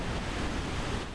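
Ocean waves wash onto the beach at Cape Lookout, the southernmost point of North Carolina's Outer Banks, as a continuous broad roar of surf, fairly close and steady, with no voices.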